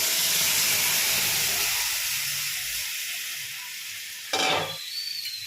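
Masala sizzling and being stirred in a hot pan alongside fried fish, a loud steady hiss that gradually eases, with a sharp scraping stir near the end.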